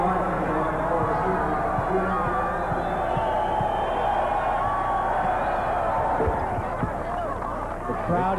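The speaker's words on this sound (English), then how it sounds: "The crowd is really working the foul shooter" Basketball crowd at the Hearnes Center during a 1990 NCAA game, Oklahoma at Missouri, jeering and roaring at an opposing foul shooter as a steady wall of noise, with a commentator talking over it.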